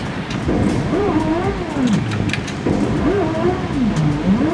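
The engine of a Nissan S13 drift car in a racing simulator, a loud, steady drone that rises and falls in pitch through repeated shifts and revs, with no talking.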